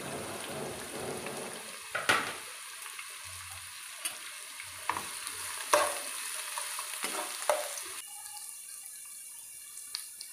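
Onions and curry leaves fry in oil for fish burji, a steady sizzle broken by sharp clacks and scrapes of a spoon stirring the pan, with some dripping water, close and moderately loud.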